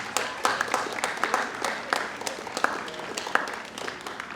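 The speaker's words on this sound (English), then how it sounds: "Let's give them a round of applause." A modest audience claps at a medical school Match Day event, with sparse, uneven individual claps standing out against a thinner backdrop of applause that tapers slightly toward the end.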